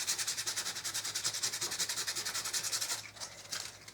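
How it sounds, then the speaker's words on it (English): Sandpaper rubbed back and forth over a painted dollhouse floor, a rapid, even rhythmic scratching of close strokes, quiet, that breaks into a few slower passes near the end. "I'm going to take just a little bit of sandpaper and I'm just going to sand it down a little bit"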